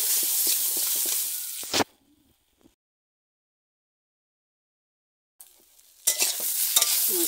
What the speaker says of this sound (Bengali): মশলা মাখা কচুটা একটু ভাজা ভাজা হয়েছে